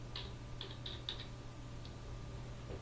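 Computer keyboard keys tapped in a short, uneven burst of light clicks, with a pause and then a single late tap, quiet and close against a faint steady hum.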